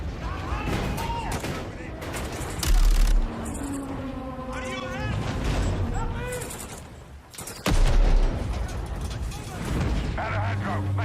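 Gunfire in a game trailer shown at Summer Game Fest, with heavy bursts of shots and explosions cutting through shouted dialogue and a noisy mix of other effects.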